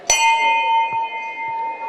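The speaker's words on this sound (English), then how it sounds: "Can we ring the bells?" A temple bell at a Ganpati temple is struck once with a sharp clang and rings on in a bright, sustained metallic tone, with a couple of softer knocks as the ring fades slowly.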